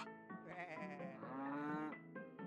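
Sheep bleat repeatedly in a farm video game, with several wavering, nasal cries overlapping into one steady, loud chorus before a final shorter bleat.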